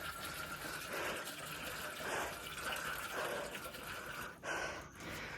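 Water poured out near a Khandoba temple, a faint, steady trickling splash that runs continuously for a few seconds with a slight catch near the end.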